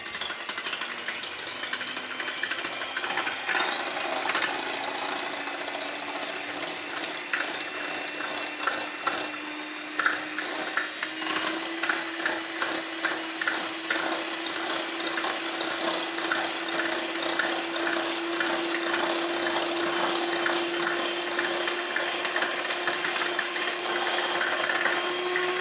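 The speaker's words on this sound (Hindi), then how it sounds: "इसके अंदर हम बीटर की मदद से इनको थोड़ा सा बीट कर लेंगे।" An electric beater whips eggs for a simple cake made without an oven, giving a loud, continuous motor whine with a gritty rattle that runs unbroken throughout, with no talking.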